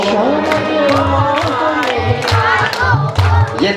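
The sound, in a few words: audience clapping both hands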